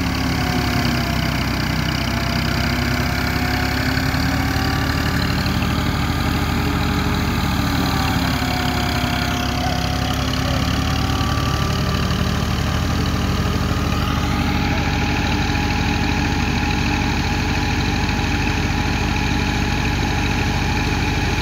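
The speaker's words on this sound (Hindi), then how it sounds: "थ्रेशर को चलाया जाता है, ट्रैक्टर के साथ शाफट लगाई जाती है और वो शाफट थ्रेशर को चलाती है।" A tractor-driven wheat thresher, powered through a shaft from the tractor, runs continuously with a steady, loud mechanical drone and hum that never lets up.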